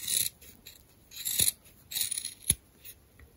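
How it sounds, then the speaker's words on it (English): Scissors snip through sewn fabric at the edges of a homemade face mask, a few short crisp cuts with a sharper click near the end, close and isolated in a quiet room. "get a scissor, and then you can cut"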